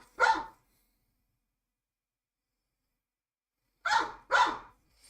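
A dog in the Minecraft GregTech: New Horizons mod gives three clear, close barks, one single bark and then, after a long silence, a quick pair.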